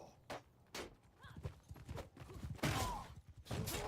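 Horse hooves gallop in a Bannerlord competitive skirmish battle, a rapid, faint, uneven clatter of hoofbeats mixed with distant combat noise and voices.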